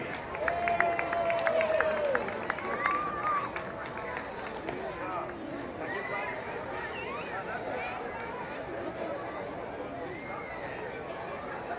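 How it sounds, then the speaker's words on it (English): An audience claps for a group of little boys at a pageant-style show, a dense patter of many hands mixed with crowd chatter and whoops, loud at first and then settling into a steady, fainter wash. "Let's give all these beautiful little boys a big round of applause."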